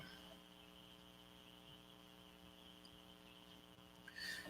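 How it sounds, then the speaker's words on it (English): Faint, steady chirping of crickets and cicadas drones softly in the distant background, with a low hum underneath and no talk. "Crickets and children. Great sound in the background."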